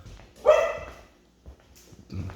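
A dog barks once sharply at close range, followed by a couple of softer, shorter yips or huffs after a brief pause.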